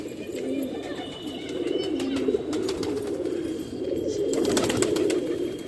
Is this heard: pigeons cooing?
yes